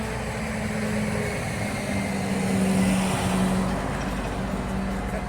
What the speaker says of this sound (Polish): Kurde, traktor większy niż mój dom.